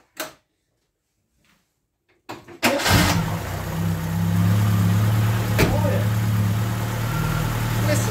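Ford Capri's Pinto engine cranking briefly after near silence, then catching and settling into a steady, close idle with a deep, even rumble.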